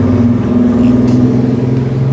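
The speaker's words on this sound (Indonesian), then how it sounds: "Nah, ada suara motor." Motorbike passing on a road in Bali, a close, loud steady engine drone with a low hum that holds briefly.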